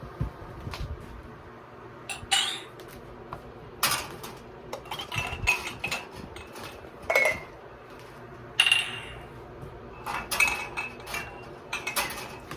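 Glass canning jars of blueberry preserves knock and clink against each other in a pot of water, sharp scattered chinks over a low steady background hum, close and irregular.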